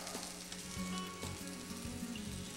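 Shiitake mushrooms sizzle in a pan with browned bacon, garlic and shallot, a close, steady frying crackle with a few faint stirring knocks and no voices.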